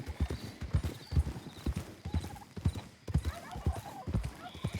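Several horses in Red Dead Redemption 2 clatter past with dense, rhythmic hoofbeats at close range, with a brief whinny and a voice speaking beneath.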